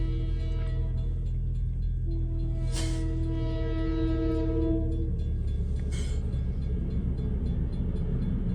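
An LIRR M3 electric commuter train passes on the Main Line with a steady, loud rumble. A sustained multi-tone horn blast sounds midway, and a couple of sharp bursts break through the continuous rail noise. No one speaks.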